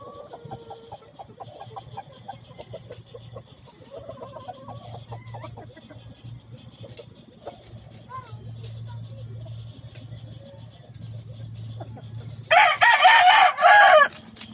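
Peruvian gamefowl at a breeding yard, soft clucking and bird sounds under someone talking, followed near the end by a loud, close rooster crow lasting over a second.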